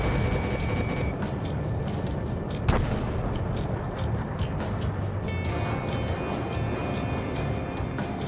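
Missile launch in the Ace Combat 7 flight game, heard as a dense, continuous roar of jet engine and weapon noise, with a brief sharper burst partway through and no talk.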